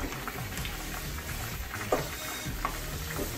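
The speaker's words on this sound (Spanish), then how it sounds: "Bien, pues aquí miren, ya está hirviendo." Mole sauce in a pot bubbles and sizzles steadily in a kitchen, a dense hissing simmer with occasional soft pops, close and continuous.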